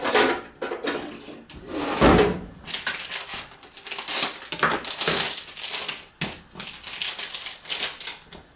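A knife chops through a package of thin-sliced lunch meat for chipped beef, making dense crinkly cutting and crunching noises in uneven bursts, close up, with the plastic packaging rustling.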